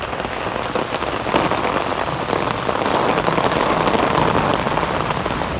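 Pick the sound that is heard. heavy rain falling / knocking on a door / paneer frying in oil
heavy rain falling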